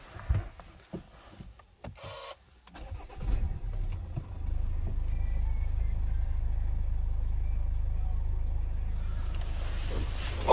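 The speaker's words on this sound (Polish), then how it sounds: "Posłuchamy, jak jednostka pracuje." A Hyundai i40 CW 1.7 CRDI diesel engine starts after some handling noises, then settles into a steady, low idling rumble heard close by for several seconds.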